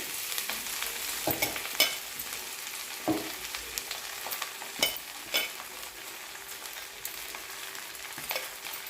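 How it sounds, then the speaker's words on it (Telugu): Chennangi leaves fry in hot oil in a pan, making a steady sizzle punctuated by irregular scraping and tapping strokes of a spatula, close and moderately loud, with no talking. "ఇప్పుడు ఇదే ఆయిల్లో చెన్నంగి ఆకు వేసుకొని వేయించుకోవాలి"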